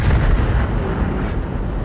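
Heavy tank cannon fire from a tank battle video game on the Lasville map, with a Bat.-Châtillon Bourrasque in play: a dense, continuous wash of low booms and rumbling blasts, loud and near, with no voices.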